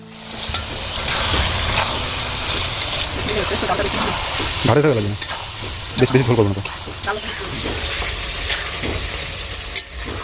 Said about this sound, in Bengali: মাংসটা ভালো করে ভেজে নিয়ে এখানে বাটা মশলাগুলো সব দিয়ে দিলাম